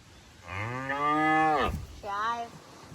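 A cow on a farm gives a loud, close, drawn-out moo, followed by a shorter second call.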